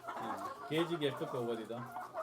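Free-ranging country chickens on a farm cluck in short, close bursts, with human voices mixed in across the brief stretch.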